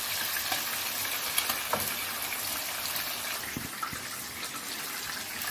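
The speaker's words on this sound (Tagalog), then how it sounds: "Lagyan ko ng coconut cream." Coconut cream poured into a sizzling pan of ginataang sitaw, long green beans cooking in coconut milk, giving a steady close frying hiss with a few soft stirring clinks and no talking.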